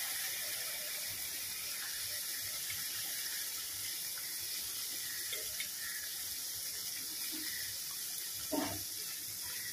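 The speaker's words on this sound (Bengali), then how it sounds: "আমি এবার জল দিয়ে দেবো" Water pours into a pan of ginger curry as it cooks, a steady, faint hiss and trickle running throughout, with a small splash near the end.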